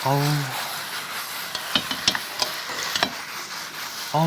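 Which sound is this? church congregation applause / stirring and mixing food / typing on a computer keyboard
stirring and mixing food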